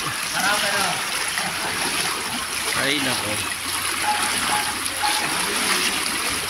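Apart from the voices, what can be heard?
fast-flowing typhoon floodwater current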